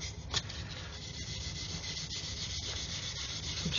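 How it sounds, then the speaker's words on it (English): Sandpaper rubbing along a seam on a plastic 1/144 Revell Apollo Saturn V model kit, a continuous close scratchy rasp at steady strength with a few small clicks, no voices. "I'm just going to sand away."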